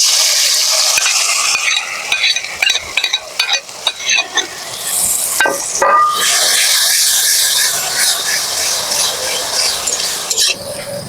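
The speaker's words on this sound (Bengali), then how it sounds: "পেঁয়াজ গুলো গ্রেট করে রেখেছি তেলের মধ্যে আমি ঢেলে দিই" Grated onion is poured into hot oil for ghugni and fries with a loud, close hissing sizzle, broken by clattering stirs and scrapes in the middle before settling into a steady sputter, with no voices.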